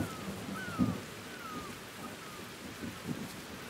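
A steady wash of heavy rain with low rumbling thunder and a few soft thuds plays in the video game Whispers of a Machine, outside a shallow cave.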